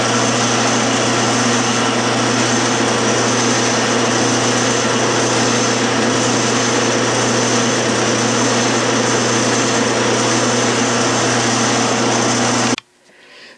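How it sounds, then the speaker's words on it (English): A steady, loud metal lathe whir runs unbroken for about thirteen seconds as it faces the end of half-inch steel stock, then cuts off abruptly at the end. "Now I'm back at the closing lathe. I'm going to face the end of the half-inch stock off"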